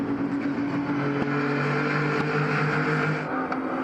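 Prototype race cars at Monza in a championship race, engines droning loud and steady with harmonic tones that swell as cars pass, no talk over them.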